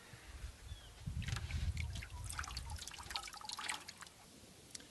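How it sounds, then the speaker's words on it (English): Water draining away from dry potting mix that has soaked for several minutes, heard as a steady close trickle with scattered drips and splashes that runs throughout without any voices. "So now all you have to do is take it out and then let the water drain away."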